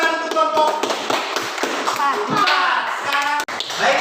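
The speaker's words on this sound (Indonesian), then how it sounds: "Tepuk tangan untuk kelompok" Classroom of children clapping for a group after a science lesson on sound, a burst of quick, close hand claps with young voices mixed in.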